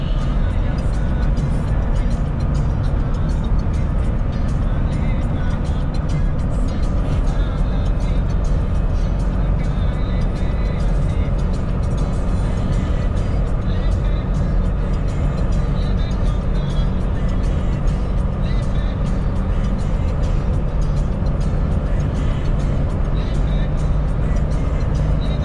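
A Nissan D22 3.0 Turbo pickup rolls along a busy road in the late afternoon, its engine and tyre noise a steady drone while other cars pass close by.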